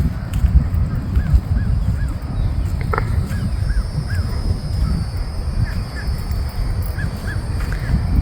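Repeated short honks from ducks at a distance, spaced irregularly over a constant low rumble of wind or surf at low tide, with no talking.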